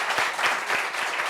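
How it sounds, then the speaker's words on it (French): An audience in a French discussion show claps for a woman in green, giving a short, steady patter of applause at moderate loudness. "Applaudissements pour la dame en vert déjà."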